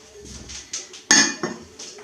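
A lid or cover clatters onto a pot of kombucha tea in a home kitchen, one sharp metallic clink standing out among a few softer knocks and taps, close and fairly loud.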